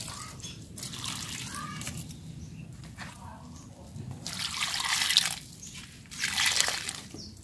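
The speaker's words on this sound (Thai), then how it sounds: "ใช้น้ำที่เราแช่นี้แหละลดลงไปเลย" Soaking water poured into soil in a plant pot gives a series of trickling, splashing pours that swell and ease in close, moderately loud bursts, with quiet gaps between them.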